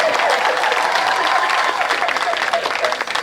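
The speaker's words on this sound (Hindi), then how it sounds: "ताली बजाओ, ताली बजाओ।" At a Hindi comedy poetry gathering, the audience breaks into loud, close applause, a thick burst of clapping that runs throughout and thins slightly at the end, with some voices mixed in.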